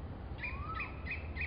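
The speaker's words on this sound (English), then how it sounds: "I heard the sound of a cuckoo." A cuckoo perched on a tree branch gives a short series of faint, high chirping calls, repeated about four times with a thin rising-and-falling whistle between them, over low background rumble.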